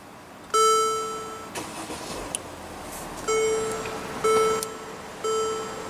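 Push-button start of a 2015 Mercedes-Benz GL350 with a 3.0 L diesel V6, with repeated electronic chimes over a low engine rumble after a brief crank, heard close from inside the cabin.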